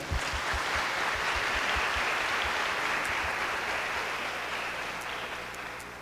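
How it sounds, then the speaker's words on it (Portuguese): A large crowd claps steadily at an episcopal ordination ceremony, a dense, sustained applause that slowly fades toward the end. "uma salva de palmas."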